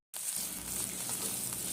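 Chopped ginger and garlic frying with vegetables for chicken pish pash, a steady soft sizzle starting abruptly and holding evenly throughout.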